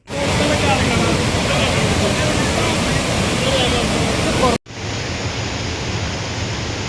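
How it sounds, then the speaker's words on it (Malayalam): Low-water Vazhachal waterfall near Athirappilly, its water pouring over rocky ledges as a loud, steady roar, broken by a brief cut partway through before the rush resumes. "ഈ വെള്ളച്ചാട്ടവും ഈ പാറക്കെട്ടും"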